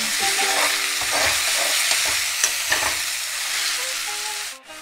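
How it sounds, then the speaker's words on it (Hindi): Chopped onions fry and are stirred in a pan for a Punjabi fish curry, a steady close sizzle broken by scraping stirs. "प्याज को हमें गोल्डन कलर आने तक भूनना है।"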